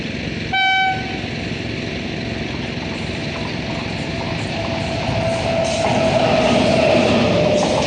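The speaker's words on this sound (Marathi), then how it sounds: "नेली आमची ट्रेन" A train passes a railway level crossing in a village, with a sharp horn toot near the start followed by a steady, loud rumble of wheels and wagons that swells toward the end.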